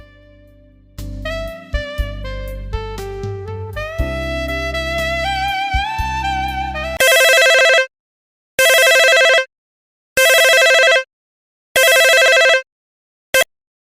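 A mobile phone plays a melodic ringtone for an incoming call at close range, followed by four loud, evenly spaced bursts of ringing separated by short silences.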